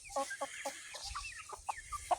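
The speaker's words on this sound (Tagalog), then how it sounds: "Ito yung mga manok natin ngayon dito" Several chickens cluck in short, uneven bursts close by, with a low hum underneath and no talking.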